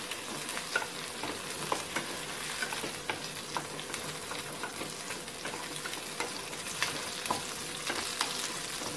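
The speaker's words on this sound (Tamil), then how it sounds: "சின்ன சின்ன தக்காளி 3யுமே அப்படி முழுசாவே போட்டுக்கிறேன்" Three whole small tomatoes sautéing in hot oil for a home-style chicken curry, a steady close sizzle and crackle with frequent stirring clicks throughout, no talking.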